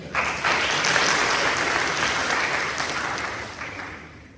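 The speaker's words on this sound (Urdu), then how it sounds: "اس بات پہ تالیاں ضرور ہو جائیں." An audience at a talk bursts into applause, loud sustained clapping that gradually fades away over a few seconds.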